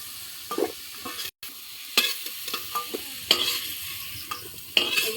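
Potatoes frying in hot oil are stirred in a pan, with a steady sizzle broken by repeated scraping clicks of the spatula, close and moderately loud, with no talking.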